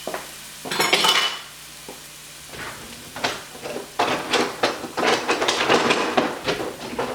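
A metal spoon clanks and scrapes against a pot of stew with garlic, in repeated close, rhythmic knocks and stirring sounds.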